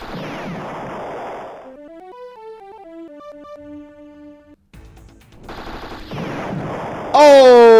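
Ship weapons in the space combat game Star Control 2 blast out in loud bursts of rapid crackling fire, separated by stretches of electronic tones and melodic game music, ending in a sharp burst of shots.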